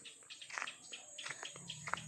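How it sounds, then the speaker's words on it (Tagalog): Faint bird chirps and tweets come from a distance over a steady insect-like hiss, scattered short calls without any talking. "daming ibon"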